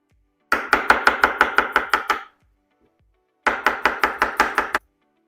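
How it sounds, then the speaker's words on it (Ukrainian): Quick, even knife chops on a cutting board thinly slicing radish, in two runs of about nine strokes each, separated by a short pause. "Редисочку тонесенько нарізаю."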